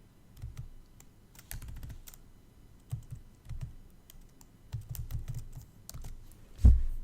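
Typing on a computer keyboard while filling in an online tax filing form, quick bursts of soft close key clicks with short pauses, fairly quiet and alone.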